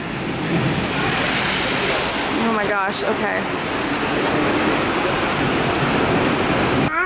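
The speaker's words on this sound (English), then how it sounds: "You see the rain? Yeah, it's pretty hard, huh?" Heavy rain pours down in a dense, constant roar that fills the whole clip, with a person speaking briefly under it.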